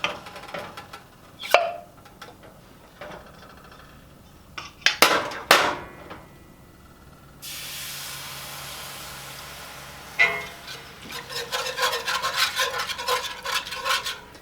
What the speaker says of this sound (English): I'm going to make sure that I'm whisking this as I add it in.